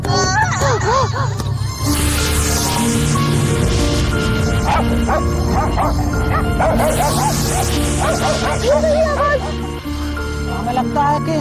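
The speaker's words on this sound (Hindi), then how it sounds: "हमें लगता है कि कुत्ते किसी जंगली जानवर का शिकार कर रहे हैं।" Several dogs bark, yip and whimper in rapid overlapping bursts, loud and close, continuing throughout over a steady droning background.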